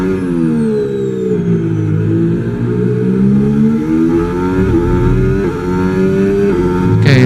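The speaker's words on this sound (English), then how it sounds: "The sound of the downshifts." Formula 1 car engine from the F1 25 racing game, Williams FW47, roaring steadily close up with pitch sweeping down and up through gear changes and downshift blips, no talking.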